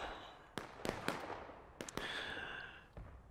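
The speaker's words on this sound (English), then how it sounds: "Artillery fire inbound." Artillery fire arriving in the Civil War game War of Rights, several sharp distant booms and cracks spread unevenly over a faint background.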